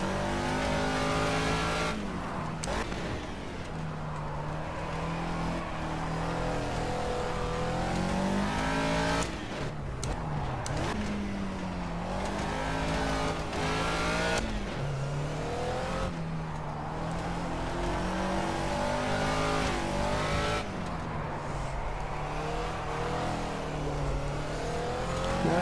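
A Caterham Seven Classic races around Monaco in the video game Project CARS, its engine revving loudly and continuously with sharp gear-change drops and rises, plus brief tire squeal through the corners.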